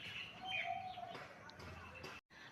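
Outdoor birdsong on a sunny morning after a storm: a few clear high chirps and a soft cooing call, moderately near, over a faint steady background with a brief gap near the end.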